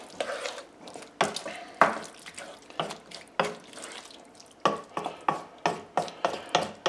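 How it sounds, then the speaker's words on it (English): Marinara sauce with chopped basil gets stirred in a pot, making a series of wet, rhythmic scraping and sloshing strokes, fairly close and with no talking. "Stir that around."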